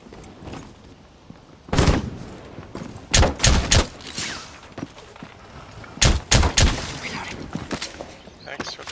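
Gunfire in a Rainbow Six Siege team deathmatch on the Villa map: several loud, sharp bursts of shots in quick clusters, with quieter game ambience and faint talk between them.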